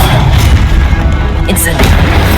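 Spell cast in the video game Hogwarts Legacy, a deep booming magical blast rolling under loud combat noise, with a sharp burst near the middle and a voice calling out over it.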